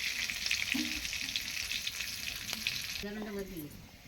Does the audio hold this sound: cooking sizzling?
yes